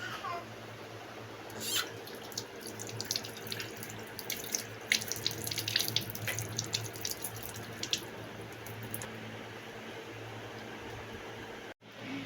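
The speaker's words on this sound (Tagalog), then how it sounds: "First step, maghuhugas po ako ng kamay." A kitchen tap runs steadily as hands are washed under it, producing continuous splashing water with brief bursts of louder rinsing and handling, close up, before the flow cuts off abruptly near the end; a faint cat meow may be present.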